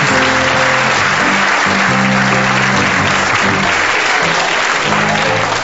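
Audience applause fills a Turkish comedy stage show, a dense, steady wall of clapping that carries on throughout, with faint tonal sounds underneath.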